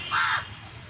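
A crow gives a single loud, close caw, a short harsh call standing alone.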